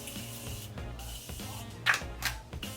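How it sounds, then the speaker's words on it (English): Morphe makeup setting spray is misted in a couple of short hissing bursts near the end, close up over faint background music. "I love the setting spray, by the way."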